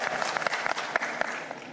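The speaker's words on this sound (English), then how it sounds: "Round of applause as they come." Brief scattered applause from an audience at a live innovation awards broadcast, a light patter of hands with a few sharper claps, steady and moderately loud for under two seconds.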